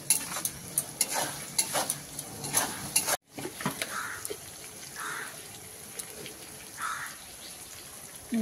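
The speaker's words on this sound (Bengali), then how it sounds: "দিয়ে এবার পেঁয়াজটা ভাজবো" Onions sizzle frying in a hot pan while a utensil scrapes and stirs in irregular strokes, close up.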